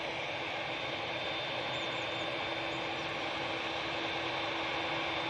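A jet airliner departs Manchester Airport, heard as a steady, broad engine roar of constant loudness at a moderate distance, with no voices.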